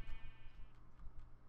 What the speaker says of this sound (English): Hey, you sheep.